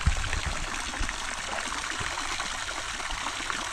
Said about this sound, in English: run water over to the duck trough to get some fresh water in it every day